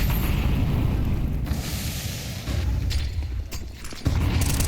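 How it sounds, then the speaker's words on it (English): A grenade bursts during a Counter-Strike match, giving a loud, sustained rumbling boom that fills the clip and is followed by lingering in-game noise, with no speech. "Ooh, hefty nade damage for Krabeni"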